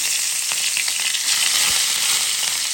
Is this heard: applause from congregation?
no